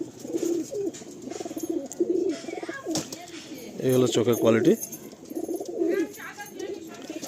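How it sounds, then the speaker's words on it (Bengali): A straight-head pigeon coos repeatedly in low throaty phrases while held close for inspection, with someone talking over parts of it and faint rustling of feathers. "খুব সুন্দর একটা স্ট্রেট হেডের পায়রা।"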